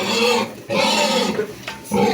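Pigs on a village farm, big animals of roughly 120–150 kg, grunt and squeal in bursts, close up and loud, with short pauses between calls.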